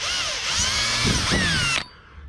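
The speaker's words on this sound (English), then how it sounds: "I'm going to carefully drill one hole" An electric drill whines loudly for a couple of seconds, its pitch dipping as it bites into material, then stops abruptly.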